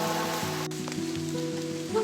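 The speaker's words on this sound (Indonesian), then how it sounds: "Dengerin suara rintikan hujan di alam." Rain falls steadily through a misty hillside forest, a constant soft patter with a sustained tonal hum underneath and no voices.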